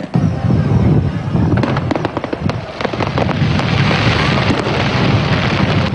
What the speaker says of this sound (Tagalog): dalawang gabi ng fireworks display competition sa 4th Dinagyang Paralympics 2014 Luces in the Sky